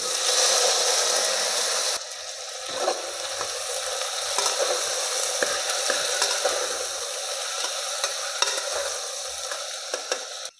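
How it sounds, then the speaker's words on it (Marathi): Cumin seeds, chopped brinjal and potatoes drop into hot oil and sizzle steadily, a close, bright crackling hiss that settles into a softer continuous fry with small pops. "आता यात टाकून घेऊया आपण 1 चमचा जिरं व हे वांगे बटाटे।"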